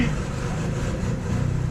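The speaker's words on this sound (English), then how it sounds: "Dad's got our little tracked skid loader type of deal running" A small tracked skid loader engine running steadily in the background, a continuous mid-pitched drone with no clear revving across the short stretch.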